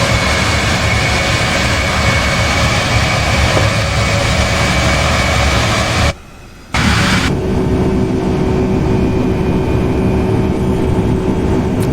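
Airliner on approach to Las Vegas in Microsoft Flight Simulator X, heard as a loud, steady broadband engine and wind roar that cuts out briefly midway and then resumes with a faint steady tone.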